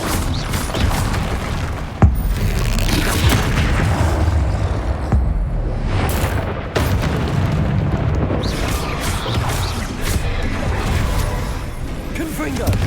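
Confringo spell explosions in Hogwarts Legacy, repeated booming blasts and crashing bursts over a dense, loud game soundscape, with a voice talking throughout.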